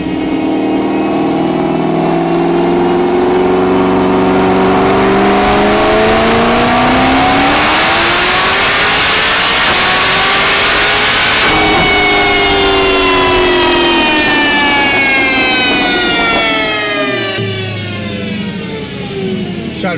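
A Stage 4 Chevrolet Corvette C7 Z06 engine roars loudly and continuously, climbing through the revs with rising tones that drop back at each gear shift, several pulls in a row up close.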